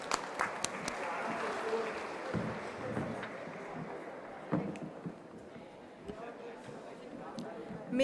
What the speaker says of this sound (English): So may we have a huge round of applause for them.